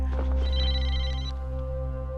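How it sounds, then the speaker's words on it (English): A phone rings loudly and close, a sustained electronic tone with a bright ringing overtone in the middle of the clip, heard on its own in a quiet outdoor night setting. "And then my phone rang."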